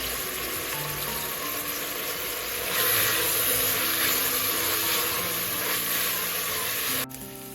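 Onions and fresh peas frying together in a pan, a steady broadband sizzle that swells louder partway through, continuous and close, with no talking.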